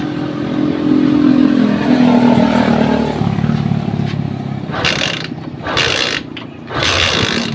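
A Haojue 125 motorcycle engine that had lost its electrical spark runs steadily up close with a mechanical clatter, then breaks into uneven revving pulses toward the end.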